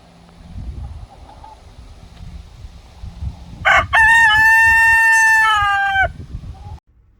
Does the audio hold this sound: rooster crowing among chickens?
yes